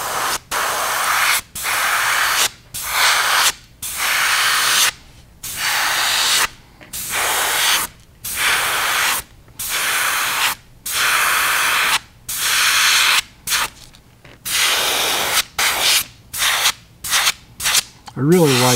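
An airbrush sprays pearlized white paint onto a ThinFin fishing lure, a close hiss in about a dozen short bursts separated by brief silent pauses.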